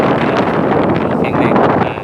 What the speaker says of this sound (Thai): มีเสียงลมพายุ นะครับเสียงลมแรงมากนะครับทุกท่าน